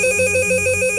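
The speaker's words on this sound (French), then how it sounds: "Encore un appel au téléphone rouge" A telephone rings with a loud, steady electronic trill that pulses in quick repeating bursts, heard close and alone.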